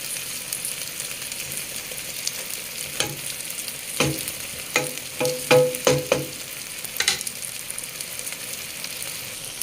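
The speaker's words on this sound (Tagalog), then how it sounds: "Then, ilagay na natin yung ating chicken." Marinated chicken sizzles in hot oil in a pot for chicken biryani, with a steady frying crackle and a cluster of stirring scrapes and clanks in the middle.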